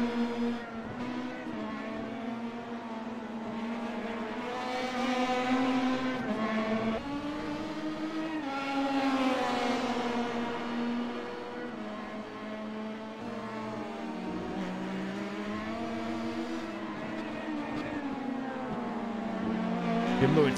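Pro Mazda open-wheel race cars circle Zolder circuit, their engines a steady high-pitched drone rising and falling through gear changes and passes, continuous and fairly loud throughout.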